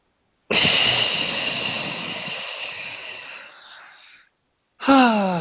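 Long, loud breath exhaled during a guided breathing exercise in a class, a steady airy rush lasting several seconds that fades out, followed by the start of another strong breath.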